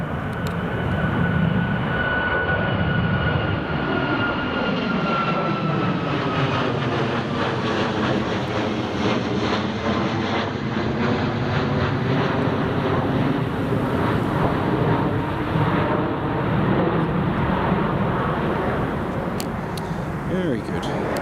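Airliner landing in strong wind at Newcastle Airport, a long loud roaring jet rumble with shifting engine tones, heavy wind buffeting the microphone throughout, and people talking over it.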